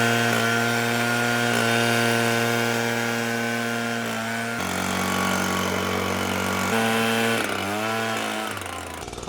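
A small gas chainsaw runs wide open, its engine holding a loud, steady high-pitched scream close by that shifts pitch a few times before briefly dropping off at the end.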